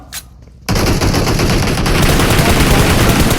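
Loud, rapid gunfire erupts after a short quiet moment and continues without a break, in a mobile battle royale game played on an iPad.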